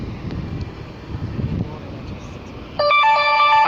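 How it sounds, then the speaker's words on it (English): A phone notification chime bursts in at loud volume near the end, a bright stacked electronic tone cutting over wind and murmuring crowd noise on a Miami Beach Fourth of July fireworks night. "My notification volume is so loud."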